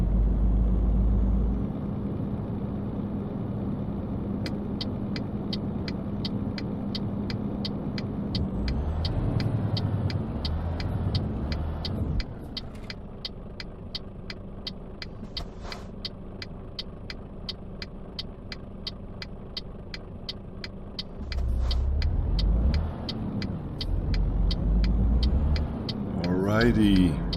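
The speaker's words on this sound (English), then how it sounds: "this DAF has a bigger engine as I expected" A DAF lorry engine in Euro Truck Simulator drones steadily and shifts pitch as the truck changes speed, with a rapid, regular ticking running over much of the drive and low rumbling bursts near the start and end.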